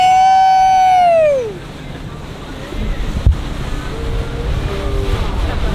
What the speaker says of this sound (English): Oh God, these are big waves